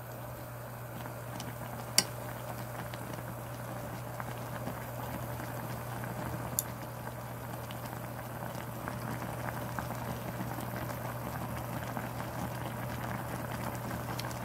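Ramen noodles cooking for an iced-Americano coffee ramen boil steadily in a pot, with a constant soft bubbling and low hum and a couple of faint clinks, no talking.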